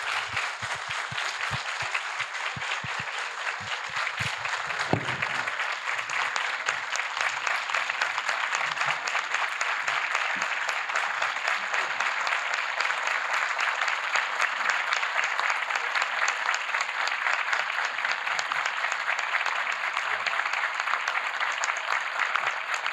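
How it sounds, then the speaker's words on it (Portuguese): Standing ovation for writer Lídia Jorge at a public event, a sustained roar of many hands clapping for over twenty seconds, loud and unbroken, with a few low thumps early on. "esses aplausos em pé mostram que"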